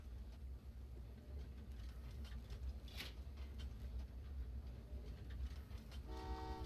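A train rolls across the map in the Train Valley 2 video game on the Bangkok level, a steady rumbling hum with clicking, and then a short repeated toot of its horn near the end.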